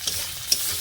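A cumin paste masala sizzles in oil with chopped tomatoes as it is sautéed and stirred, giving a close, continuous frying hiss with two brief utensil clicks.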